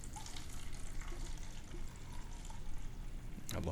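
A drink poured into a red Solo cup, a soft continuous splashing pour with a brief louder gush near the end, set against room noise.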